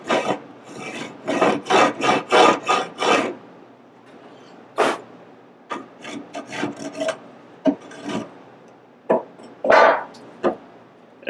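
The corner of a pry bar is drawn across rough pallet wood to scrape off the fuzz, making dry, raspy scraping strokes in quick bursts. Short pauses separate the bursts, and the sound is close and loud with no talking.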